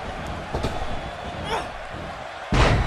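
A wrestling body slam in WWE 2K18 lands as a heavy thud over steady arena crowd noise, with a louder burst of impact and crowd noise near the end.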